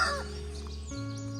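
Farm chickens clucking softly over a steady low hum, with brief cackling notes in a short continuous stretch and no one speaking.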